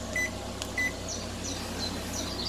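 A kitchen timer is set for cooking soup, giving a few short high electronic beeps and chirps in quick succession against a steady low appliance hum.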